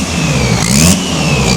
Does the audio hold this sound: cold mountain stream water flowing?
no